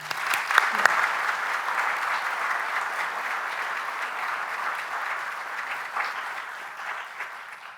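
Sustained applause from an audience at a university awards ceremony honouring a veterinary award recipient, a dense, steady wash of clapping that holds at even loudness for several seconds before easing slightly at the end.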